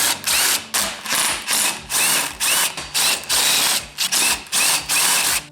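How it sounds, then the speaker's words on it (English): A ratchet wrench loosening the cylinder head bolts on a Yamaha Timberwolf ATV, clicking in loud, close bursts of rapid pawl ticks separated by brief pauses, about eight strokes in a row. "So I'm just going to go ahead and take these 4 head bolts off the top"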